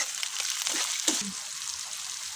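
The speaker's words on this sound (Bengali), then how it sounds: "মশলাগুলো ভাজা হবে, ফুলে উঠতে পারে" Whole spices fry in hot oil, giving a continuous hissing sizzle with a few soft stirring knocks, close and moderately quiet.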